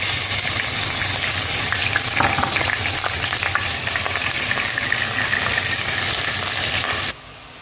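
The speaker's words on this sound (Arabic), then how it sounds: "وهسه ورا ما خلينا الزيت نضيف البصل ونجي نحمسه شوية." Onions frying in oil for an Iraqi habbiya dish, a loud, continuous crackling sizzle heard up close with faint stirring, cutting off abruptly near the end to a quieter hiss.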